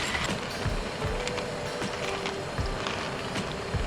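Coffee beans are crunched in a hand grinder, a steady close rasping, ratcheting grind with rhythmic turning and no talk.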